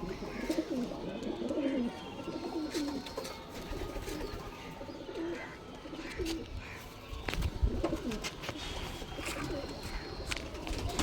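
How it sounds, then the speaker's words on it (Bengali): Mantraji pigeons, a male and a female, coo softly and repeatedly in low throaty phrases, with faint chirps and some ambient noise in an outdoor loft setting. "এই দুটো পায়রা ছাড়বো, দুটো ম্যান্ট্রাজি পায়রা"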